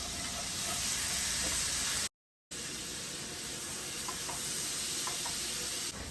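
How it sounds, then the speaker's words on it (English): Garlic sizzles and fries in a hot pan for a Cajun honey butter shrimp dish, a steady close hiss with a few faint stirring clicks and a short gap of silence partway through. "We're gonna add our garlic to the pan."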